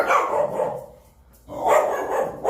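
A dog barks twice with a short pause between, clear and fairly close, then begins a third bark at the end.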